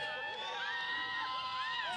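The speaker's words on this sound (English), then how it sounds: "Hear everybody cheering?" A recorded crowd cheering, with shouts and whoops mixed together, heard faintly and at a low level through playback, with voices calling out over a steady hum.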